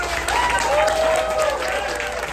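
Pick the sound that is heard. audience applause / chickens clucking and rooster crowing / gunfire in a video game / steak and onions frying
audience applause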